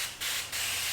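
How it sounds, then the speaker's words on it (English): An aerosol glass cleaner is sprayed onto a window of a 2016 Mini Cooper JCW in two short, close hissing bursts, followed by a continuing hiss. "this is a spray away glass cleaner, which is aerosol based"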